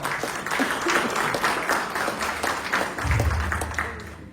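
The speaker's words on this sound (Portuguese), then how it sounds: "Pode aplaudir o Senhor." A church congregation at a Father's Day celebration service applauds steadily for several seconds, a dense wash of many hands clapping at moderate volume with a low rumble entering near the end.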